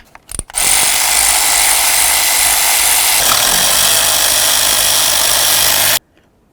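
A power tool whirs continuously for about five seconds, loud and close, loosening the valve cover mounting bolts on a 2007-2017 Ford Expedition before cutting off abruptly.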